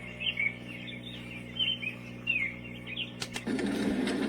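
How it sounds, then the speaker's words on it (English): Singing birds played from a color noise sound machine, a steady loop of chirps and trills over a faint constant hum, ending with a brief clatter and a burst of broadband hiss. "Singing birds."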